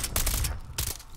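Rapid gunfire bursts in Call of Duty: Advanced Warfare, two loud dense volleys separated by a short gap, close and alone.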